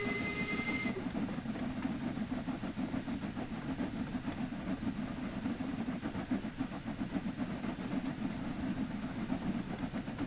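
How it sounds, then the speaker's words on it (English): Two steam locomotives, one a Jubilee, double-heading an evening railtour in West Cornwall as they pick up speed, with a loud, steady chuffing rumble and hiss that drives on throughout. "Picking up speed we are. Well, now we've got both locos working together."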